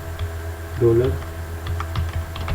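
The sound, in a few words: typing PHP code on a computer keyboard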